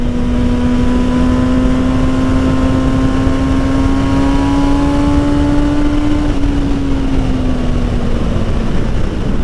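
An MV Agusta Brutale 1000 RS motorcycle engine gives a loud, steady droning roar close by. Its pitch climbs slightly as it is held, then eases down near the end, with no talking.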